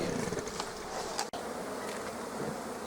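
Honey bees swarm around beehive supers during removal, their buzzing a steady, dense drone close by with a brief dropout midway.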